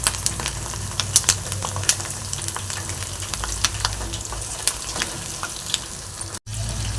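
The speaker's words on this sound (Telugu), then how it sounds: "కొంచెం హై ఫ్లేమ్లో పెట్టి వేపుకోవాలి పకోడీ" Cauliflower pakoda pieces deep-frying in hot oil over high flame, a dense, continuous bubbling sizzle with sharp crackles and pops, close up and fairly loud with no talking.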